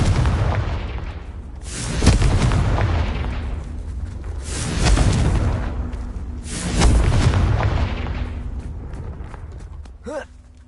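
Three heavy booming blasts from the Confringo spell in the Hogwarts Legacy video game, roughly two to three seconds apart. Each one is loud and rumbling and trails into a low roar, with a brief magical chime at the end.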